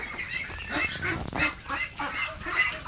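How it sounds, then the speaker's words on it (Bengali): A flock of ducklings quacks repeatedly in overlapping bursts, close and moderately loud, with a busy rhythmic chatter throughout. "আমার হাঁসের বাচ্চাগুলো এই যে"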